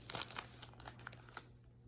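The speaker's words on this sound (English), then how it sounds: "I start cutting in the way of the scissors" Scissors snip through an ostomy pouch wafer, giving close, soft crinkling and crunching cuts in an irregular rhythm over a steady low hum, with no talking.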